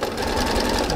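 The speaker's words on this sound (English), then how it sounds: "now I'm going to sew this up" A sewing machine stitching a quilt block runs loud and close in one continuous dense mechanical whir with fine rapid rhythm throughout, with no voices over it.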